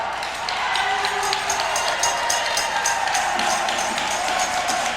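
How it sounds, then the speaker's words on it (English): Noisy basketball gym crowd at a 1993 Kentucky Wesleyan College game as the men's team walks in, with a loud, continuous roar of voices, cheering and scattered claps, steady throughout. "the crowd's a little bit loud there as we have the men's team for Kentucky Wesleyan College walking in"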